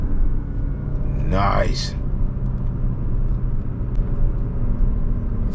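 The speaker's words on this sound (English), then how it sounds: "Let's give it some gas." A Porsche Panamera 4 sedan on a test drive gives off a continuous low engine rumble from inside the cabin, with a brief spoken remark over it.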